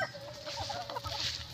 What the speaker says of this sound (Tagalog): Kana yung manok.